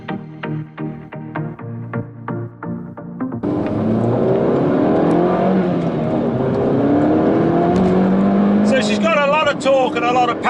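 A Lohen-tuned Mini GP3 with a limited slip differential accelerates hard on an open road, its engine rising loud and close after idle-like pulses, with a voice talking over it.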